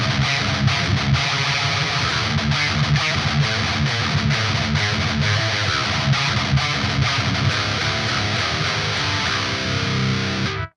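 Heavily distorted electric guitar through the Dave Davidson AmpSuite Tech Death 2 preset plays fast, tight, chugging palm-muted riffs with sharp staccato stops, loud and dense, ending abruptly.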